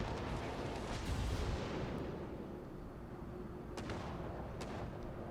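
Secondary guns on a warship in World of Warships fire at it in rolling booms that blend into a continuous heavy rumble, loud and dense, with a few sharper cracks toward the end.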